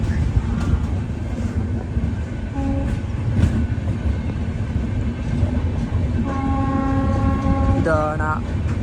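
An AC express train pulls out of a station with a heavy, steady rumble, a short horn note near the start, and longer sustained horn blasts close to the end. The whole scene is loud and near.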